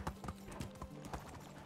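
Horse hooves clip-clopping at a gallop in the medieval life-sim game Medieval Dynasty, a quick steady rhythm of close, moderately loud hoofbeats with no talk.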